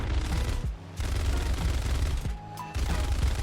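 Rapid aircraft machine gun fire from an F-82E in War Thunder, loud sustained bursts with two brief pauses where the engine drone shows through, then the firing resumes.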